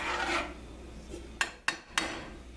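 A utensil stirring couscous in a pot off the flame: a soft rub, then three sharp scraping knocks against the pot in quick succession, close and clear with no talk.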